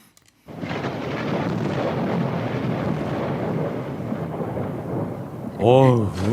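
A thunderstorm sound effect in a radio studio: after a brief quiet start, a loud, sustained roar of thunder and rain fills the space, swelling again near the end.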